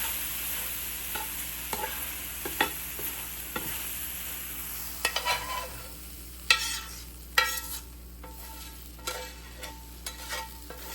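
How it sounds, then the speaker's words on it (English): Vegetables sizzling in a pan with bone broth, a steady frying hiss broken by irregular scraping clicks of a utensil stirring against the pan. "As it sticks to the pan, I'm going to pour in bone broth about 3 different times."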